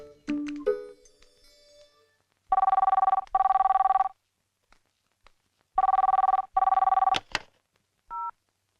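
An old-style telephone rings indoors in a quiet home, two pairs of loud electronic double-rings separated by a pause, with a few brief clicks and tones around them and no talk over the ringing.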